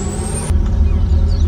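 An air brake releases a hiss on a truck in Farming Simulator 19, ending sharply after about half a second, followed by a steady low diesel engine rumble idling alone.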